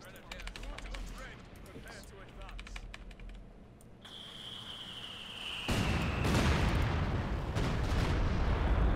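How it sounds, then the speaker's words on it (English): A ballistic missile strike lands in Company of Heroes 2, a sharp rising whistle followed by a heavy, sustained rumbling blast that swells louder toward the end, with game clatter and voices talking beforehand. "Is that a missile command? Ballistic missile"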